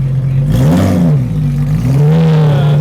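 A Honda Civic race car with a 2-litre engine revs hard up close, its loud, rasping note rising and falling through a quick throttle blip before settling into a high, steady drone.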